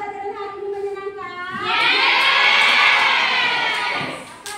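Students in a high school classroom break into applause and cheering, a swelling wash of clapping and shouts rising after a teacher's voice and fading out near the end.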